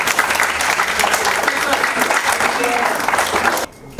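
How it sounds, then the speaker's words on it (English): An audience at a college event claps loudly and densely, a close wash of many hands mixed with some crowd voices, cutting off abruptly near the end. "Can we clap for them and can we bless them?"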